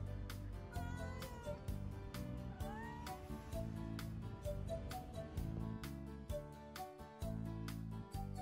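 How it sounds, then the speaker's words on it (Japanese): A stray cat in the old streets of Hakata gives faint, drawn-out meows over steady background music, the calls quiet and set against a continuous tonal bed. "バイバイにゃんこ、トラって呼んでいい"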